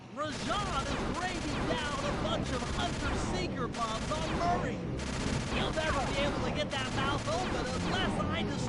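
Rapid gunfire in Sly 2 shooting down hunter-seeker bombs, a steady stream of repeated shots with popping blasts over busy game music and effects, loud and continuous, with voices talking over it.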